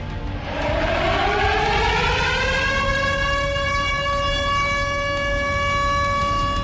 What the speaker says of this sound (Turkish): Liman kenti Odessa güne tüyleri diken diken eden siren sesleriyle uyandı.